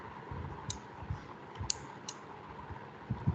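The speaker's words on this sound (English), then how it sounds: "The relay is turning on and off." An electromechanical relay switching on and off in a small electronics experiment, giving a few sharp, faint clicks spaced about a second apart over a low steady hum.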